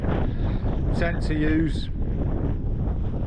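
Strong wind buffets the microphone on an exposed headland near the Point of Stoer in Assynt, Scotland, a constant loud roar under someone speaking briefly.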